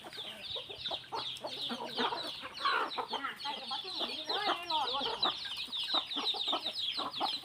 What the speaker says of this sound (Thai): ปั่นข้าวให้ไก่แล้วครับพี่น้อง